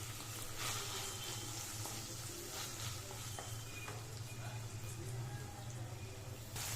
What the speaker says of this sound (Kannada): ಹಾಕೊಂಡು ಸಾಫ್ಟ್ ಆಗೋವರೆಗೂ ಚೆನ್ನಾಗಿ ಫ್ರೈ ಮಾಡ್ಕೊಳ್ಳಿ.